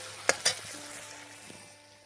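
Tomatoes fry in a pan with a soft, low sizzle while two quick scraping stirs strike early, followed by a faint hiss that fades out.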